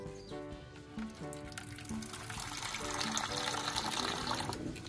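Water is poured into a container for an Aseel rooster, a soft, close trickle and splash that builds slightly as it fills.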